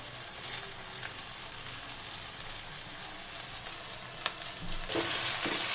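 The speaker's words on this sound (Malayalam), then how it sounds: "ഇതിലേക്ക് നമുക്ക് ഈ സവാളയും ഇഞ്ചി വെളുത്തുള്ളി എല്ലാം കൂടി ഇതുപോലെ ഇട്ട് കൊടുക്കാം" Sliced onion, ginger and garlic sizzle in hot oil in a pan for a beef curry, a soft, steady frying crackle that swells louder near the end, with a few stirring clinks and no voices.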